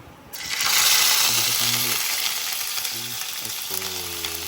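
Cumin and ginger fry in a pan, a steady close sizzle starting abruptly and continuing throughout, with brief tonal stirring or utensil scrapes over it.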